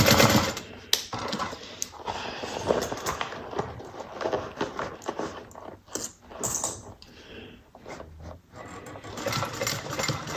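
A sewing machine stitches a bucket bag in quick bursts of rapid clattering, stopping and starting repeatedly, close and fairly loud.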